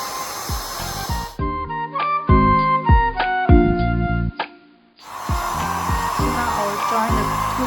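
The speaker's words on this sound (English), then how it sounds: "Join the 2 sections together and I will dry them together." Hair dryer blowing on permed long curly hair, a loud close rushing roar that cuts out briefly midway while musical tones play, then switches back on, with no talking.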